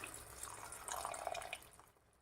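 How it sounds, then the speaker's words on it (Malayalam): Tamarind water is poured into a cooking pan, making a close, bright splashing pour that builds and then tapers off within about two seconds, with no speech. "തയ്യാറാക്കി വെച്ചിരിക്കുന്ന പുളിവെള്ളം ഒഴിച്ചു കൊടുക്കാം"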